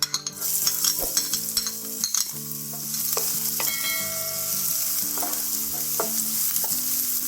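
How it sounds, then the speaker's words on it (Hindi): Chopped onions sizzle loudly in two tablespoons of hot oil in a frying pan on a gas flame, a steady crackling fry with clinks and scrapes of a spoon stirring throughout. "अब इसमें प्याज डाल देंगे।"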